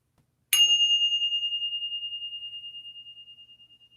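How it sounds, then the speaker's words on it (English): A single bell is struck once, ringing out clearly and close, its bright tone sustaining and slowly fading over several seconds in otherwise quiet surroundings. "ring the bell, clear the air"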